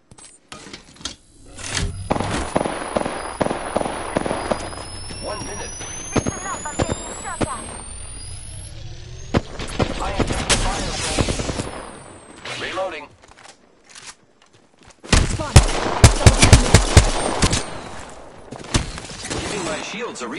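Bursts of gunfire and impacts in a PS4 multiplayer shooter, dense volleys around the middle and a loud barrage near the end, mixed with game effects and a rising tone, with voices talking at times.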